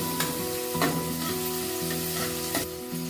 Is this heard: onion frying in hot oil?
yes